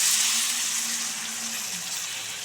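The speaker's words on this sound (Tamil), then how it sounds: "இப்போ நான் கொஞ்சம் தண்ணி ஊற்றணும் லைட்டாக." A little water goes into a hot frying pan of brinjal for sundakai kara kuzhambu, making a loud, close hissing rush that slowly settles, with no voices.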